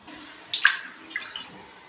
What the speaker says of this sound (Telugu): ఒక ఇడ్లీ పాత్ర తీసుకుని అందులో ఒక 2 గ్లాసెస్ వాటర్ పోసుకుందాం